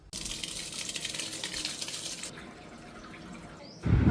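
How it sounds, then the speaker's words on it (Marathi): Split lentils washed under a running kitchen tap, a steady splashing gush of water that eases partway through and ends with a bump. No one speaks. "नळाच्या पाण्याखाली स्वच्छ धुवायच्या"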